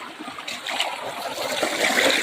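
Water flows out of an outdoor opening that was dry before, a short steady splashing trickle that grows slightly louder toward the end.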